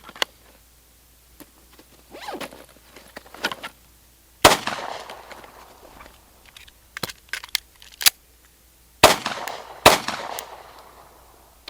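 Handgun shots fired at an outdoor range, a few sharp cracks scattered among quieter clicks and handling noises, with a close burst near the start and a pair near the end.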